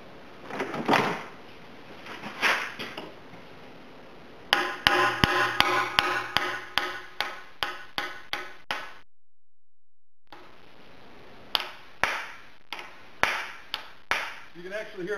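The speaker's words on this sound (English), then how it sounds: "as I'm hitting the tool, it's hitting on the axle tube, so we know that the seal is seated" A hammer strikes a seal installer tool to seat a rear axle seal on a Jeep Liberty, giving a series of sharp, ringing metallic blows in bursts with pauses, close and loud, with some handling noise between.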